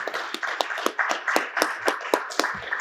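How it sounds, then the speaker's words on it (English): Audience applause for a panel on food and water security, heard as a brief burst of sparse, uneven hand claps close by, with no voices over it. "A big round of applause for them."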